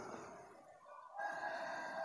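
Rooster crowing during an outdoor dawn gathering, one long drawn-out crow that fades briefly and then rises again, close and clear with no talk over it.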